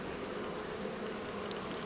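Honey bee colonies fly around their hives in the morning, making a dense, steady buzzing swarm drone that continues without a break and no voices.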